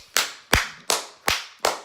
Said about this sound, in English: doing all the hand clapping like,